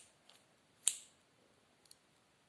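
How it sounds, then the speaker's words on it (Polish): Scissors cutting out a paper reindeer mask, one sharp crisp snip followed by a couple of faint clicks in a quiet room. "ja biorę nożyczki. Musimy to wyciąć."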